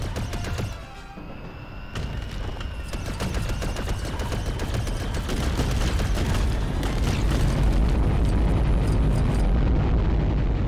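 Constant heavy blaster fire and rolling explosions from the Lego Star Wars: The Skywalker Saga video game, a dense, loud barrage with no let-up for the whole stretch.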